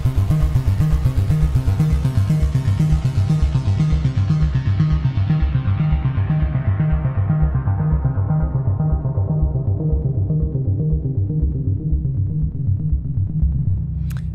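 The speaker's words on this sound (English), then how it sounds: "we've got just a retro synth patch, a couple of reverbs, a delay, and the arpeggio going" A retro synth patch in Logic Pro X plays a steady, pulsing arpeggio, washed in reverb and delay. The bright upper tones fade out over time, leaving a constant low throb until a short click at the end.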